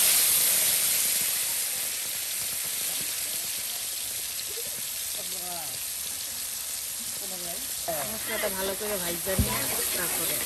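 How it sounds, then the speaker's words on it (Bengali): Spice paste and ground spices frying in hot oil, a steady hiss and sizzle running throughout under a voice speaking in the second half. "একদম মশলাটা দেখুন তেলের সাথে একদম সুন্দর করে কিন্তু ভেজে নেওয়া হচ্ছে"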